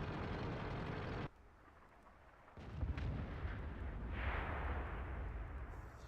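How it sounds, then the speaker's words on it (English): Heavy artillery shell slamming into a tank in World of Tanks, a loud broadband blast that cuts off abruptly, followed by a rumbling engine-like roar and a second swelling impact-like wash of noise. "as soon as the artillery piece hit me"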